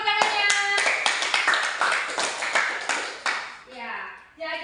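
An audience claps together at an Indonesian campus worship gathering, a dense burst of hand claps that thins out and fades, with a voice joining near the end.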